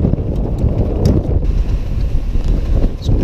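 Strong offshore gale of about 35 knots gusting to 40 buffeting a singlehanded sailboat under a double-reefed staysail, heard as loud, constant low roaring wind noise on the microphone with scattered knocks and creaks.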